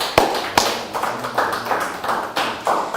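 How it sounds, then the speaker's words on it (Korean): A church congregation claps at a Sunday worship service, with sharp separate claps spaced through the stretch, each fairly loud and close, and no talk over them. "하나님께 영광의 박수를."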